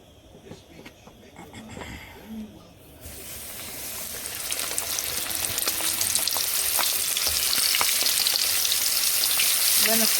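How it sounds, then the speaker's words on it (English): Seasoned, dusted chicken wings fry in hot oil, a steady close sizzle that swells louder and denser as the pieces settle in, with no talking. "when I finish frying this chicken wings"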